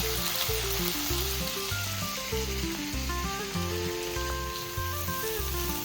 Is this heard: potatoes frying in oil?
yes